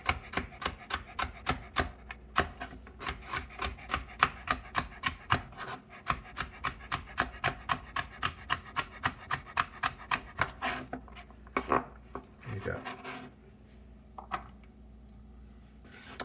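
A knife julienne-cuts vegetables on a cutting board in a fast, even run of crisp close taps that slows and turns more irregular toward the end, no voices.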